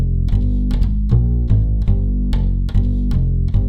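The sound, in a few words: upright bass played via Trillion Acoustic Upright VST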